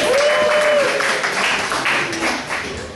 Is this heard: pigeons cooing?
no